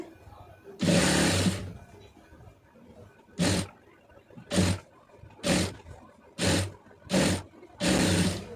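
A home sewing machine runs a straight stitch along a folded fabric edge in a series of short bursts: one long run followed by several brief, evenly spaced spurts, close and clear with a low motor hum.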